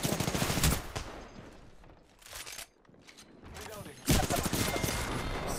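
Gunfire in the video game Apex Legends, bursts of rapid automatic shots with mechanical clicks and reload sounds, loud and close, broken by a short lull, while someone talks over it.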